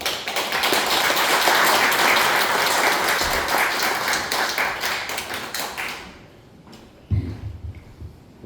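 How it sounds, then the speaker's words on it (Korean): A large lecture-hall audience applauds loudly and steadily as a guest speaker comes forward, the dense clapping fading after about six seconds, followed by a few thumps and scattered quiet noises. "나오실 때 박수로 환영해 주시면 감사하겠습니다"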